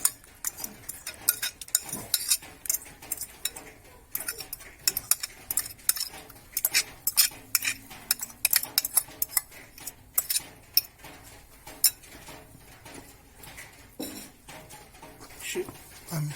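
A teaspoon stirs pork ciorbă enriched with sour cream and egg in a cauldron, giving quick, irregular metallic clinks and scrapes against the pot throughout, close and fairly quiet.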